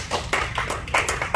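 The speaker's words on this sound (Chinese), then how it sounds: "给他鼓励的掌声" Encouraging applause from a meeting audience at a speech club session: bursts of close hand clapping rising and falling over a short moment, with no voices.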